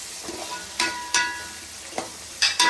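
Chicken feet curry frying in a pan, steady oil sizzle broken by several sharp scraping stirs of a spoon against the pan, close and fairly loud, no talk.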